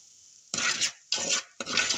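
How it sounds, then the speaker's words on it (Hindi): Half a cup of semolina (sooji) lightly frying in a pan for halwa, stirred in three distinct scraping passes with a soft sizzle underneath, close and fairly quiet. "सूजी आधा कप हल्के से फ्राई करना है"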